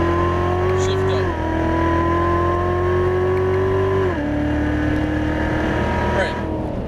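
A Chevrolet Corvette C7 Z06 accelerates hard on a race track, its engine droning loud and steady with rising pitch and two clear upshift drops, close and continuous under the wind.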